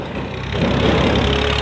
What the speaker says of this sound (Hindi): ये स्टार्ट हो गई है हमारी मोटरसाइकिल।